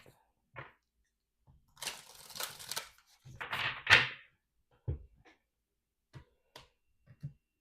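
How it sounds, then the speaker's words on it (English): Two short bursts of papery riffling as tarot cards are shuffled, with a few soft taps and clicks around them in a quiet room. "One more shuffle."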